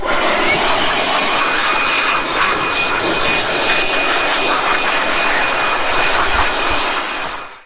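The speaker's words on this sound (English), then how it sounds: "I'll give her a little blow dry." A powerful blower drying a washed Honda CB500 café racer motorcycle, a loud, steady high-pitched roaring rush of air held close for several seconds before cutting off at the end.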